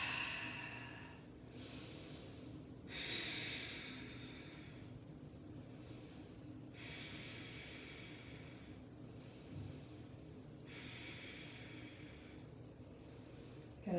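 Slow, audible breathing during a yoga flow with a block, with long inhales and exhales alternating in a steady rhythm, close and soft in a quiet room.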